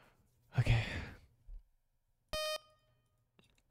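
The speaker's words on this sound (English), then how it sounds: "Beep." A short electronic beep from the World of Horror video game sounds once, sharp and tonal, following a breathy sigh and a brief low thump in an otherwise quiet room.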